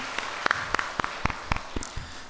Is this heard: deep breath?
no